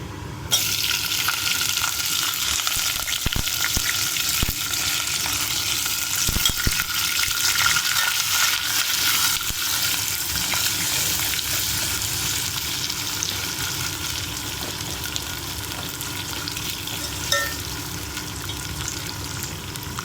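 Green chilies and onions fry in a pan for a tomato bath dish, a dense continuous sizzle up close with occasional stirring clinks and scrapes throughout.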